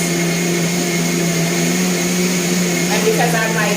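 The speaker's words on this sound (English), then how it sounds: "I usually blend until I really don't see any more of the little black specks of the dates." A blender runs steadily and loudly, whirring cashew milk with bananas and dates into a smooth drink. The motor drone stays constant throughout, with a slight shift in pitch toward the end.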